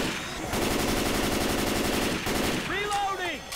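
Rapid automatic gunfire in the shooter game Left 4 Dead 2 rattles out in a dense, loud burst lasting about two seconds, followed by shorter shots mixed with whooshing, warbling game effects.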